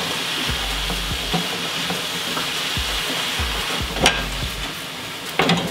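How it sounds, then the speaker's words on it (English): Food frying in a pan while it is stirred, a continuous soft sizzle with low rumbling thumps and occasional sharper scrapes of the utensil against the pan. "And stir it up."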